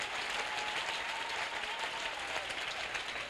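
A church congregation claps and cheers in praise of the Lord, a dense, even wash of applause filling the room at steady volume throughout.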